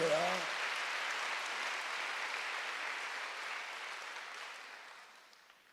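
Applause from a congregation during a Sunday church worship service, a dense broadband clatter of many hands that starts loud after a brief spoken word and gradually fades over several seconds.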